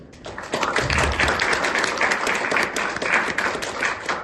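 Warm applause from an audience at an academic art history conference, a dense steady patter of many hands that swells quickly and continues evenly at moderate volume.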